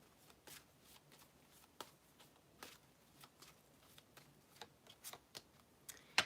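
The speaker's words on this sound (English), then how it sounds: "I want to shuffle these up real good for you." Tarot cards shuffled by hand in a series of soft, quick riffles and flicks, irregular bursts spaced through a quiet room, close and fairly gentle, with no talking.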